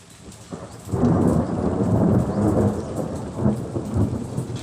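Thunder rolls in with a loud rumble after a quiet start, then heavy rain keeps pouring steadily, with further low booms swelling through the downpour.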